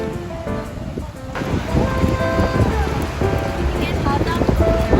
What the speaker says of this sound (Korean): 이게 바다.